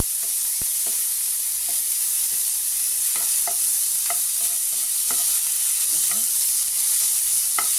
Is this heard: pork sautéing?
yes